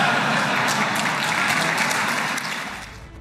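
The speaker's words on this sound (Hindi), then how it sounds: "पूरी संसद एक बार फिर तालियों की गड़गड़ाहट और ट्रंप ट्रंप के नारों से गूंज उठी" Dense, steady applause fills the Israeli Knesset chamber after a remark by Donald Trump, loud and continuous before thinning out toward the end.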